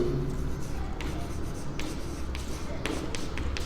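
A pen writes on paper or a board during a Hindi-language maths logic lesson, producing short scratchy strokes and taps in irregular bursts over a steady room hiss, fairly close.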